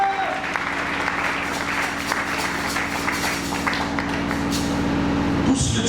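A church congregation claps and cheers for the Lord, a dense wash of applause over a low sustained musical drone, with the clapping swelling briefly near the end.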